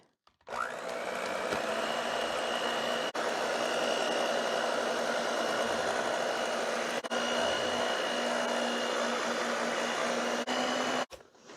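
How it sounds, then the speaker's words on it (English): An electric mixer whirs steadily at medium speed through cake batter, a close, even drone that holds for about ten seconds before cutting off, with no talking. "Now we'll mix it for 2 minutes on a medium speed."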